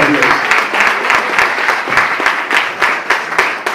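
A church congregation applauds steadily, many hands clapping in a loud, continuous crowd wash with some individual claps standing out close by.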